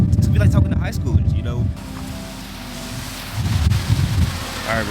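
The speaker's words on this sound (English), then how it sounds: "I literally had to move because it's just too windy." Strong wind buffets the microphone outdoors in Miami, a heavy low rumble that swells and fades, with a person talking over the first part and again near the end.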